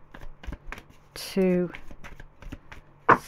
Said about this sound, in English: Okay, three shuffles.